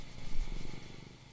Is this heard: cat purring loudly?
yes